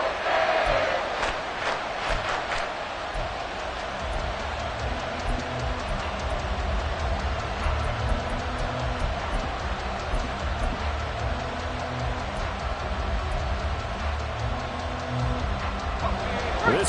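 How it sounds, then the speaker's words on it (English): Football stadium crowd swelling into a loud, sustained roar and cheering, a continuous wall of massed voices with a commentator talking over it. "This crowd turning up the decibel level."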